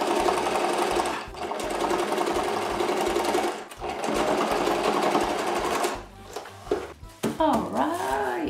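A sewing machine stitches a rug made from old clothes in a steady, loud mechanical run of rapid stitching, pausing briefly around four seconds, then stopping near six seconds before a few sharp handling noises.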